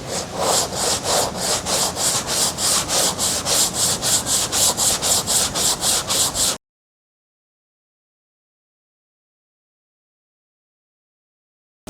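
Hand sanding of car body filler on an HZ restoration, done with a long sanding block and 80 grit paper: about twenty even, rhythmic rasping strokes close up, then an abrupt stop into silence.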